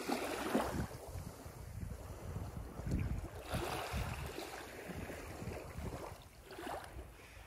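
Sea waves and wind along a seafront promenade in Thessaloniki in December, a steady broadband wash with rising surges of surf every few seconds and low wind rumble, moderately loud with no talk.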